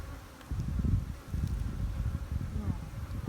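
Honey bees swarm around a hive being split on a windy day, a thick steady buzz close by with bees zipping past, swelling in loudness after the first half second.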